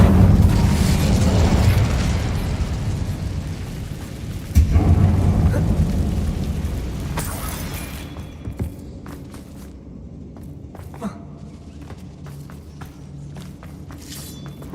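Incendio fire spell cast in Hogwarts Legacy: a dense, loud roaring burst of flame and rumble with sharp cracks, fading into quieter ambience with scattered ticks and footsteps.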